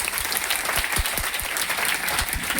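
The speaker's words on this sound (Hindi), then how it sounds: "जोरदार ताली आप सबके लिए।" Enthusiastic applause from a crowd at a business meeting in Patna, steady dense clapping throughout with no pauses.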